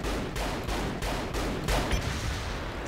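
Rapid, evenly spaced gunshots from shooting skeet in Saints Row The Third, a quick volley of about six loud, close reports over steady background game noise.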